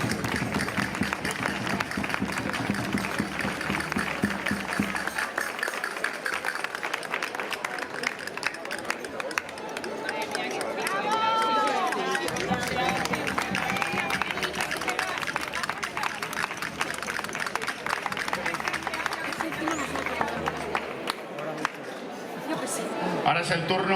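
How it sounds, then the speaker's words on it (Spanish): A crowd applauds a municipal folk group at a folk festival in Jaraíz de la Vera, Spain: sustained clapping mixed with cheering and chatter from a large audience, steady throughout. "Un fuerte aplauso."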